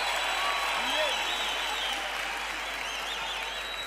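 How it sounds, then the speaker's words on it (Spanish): Strong applause from a crowd at a freestyle rap battle, dense continuous clapping with a voice talking faintly underneath. "Un fuerte aplauso para estas dos bestias"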